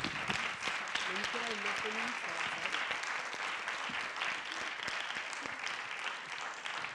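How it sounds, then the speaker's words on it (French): Audience applause for a round-table panel on gender equality in science, a steady wash of clapping across the whole stretch with some voices talking faintly underneath. "on continue à applaudir le panel qui a été réuni à cette table"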